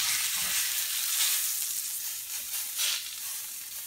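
Steak sizzling in a hot pan makes a continuous, close, bright crackling hiss that swells slightly now and then.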